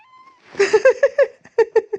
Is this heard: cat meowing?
yes